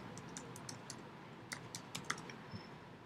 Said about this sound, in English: So you're gonna ask the name, so I'm going to type person name